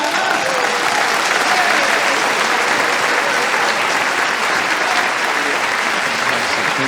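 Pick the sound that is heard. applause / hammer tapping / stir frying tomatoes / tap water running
applause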